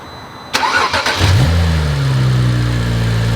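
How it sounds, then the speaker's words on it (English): Car engine cranking briefly, then catching and settling into a steady, loud idle that hums close by with no voices. "start the vehicle, turn on your AC"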